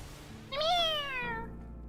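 A single short meow sounds in the digital card game Magic: The Gathering Arena, clear and close against a quiet game-music background.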